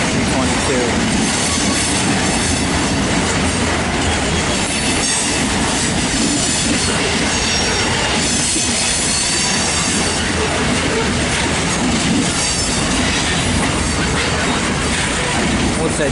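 CP freight train rolling past at close range on a railway, a dense continuous roar of wagons with metallic wheel squeal and rhythmic clatter throughout, loud and unbroken.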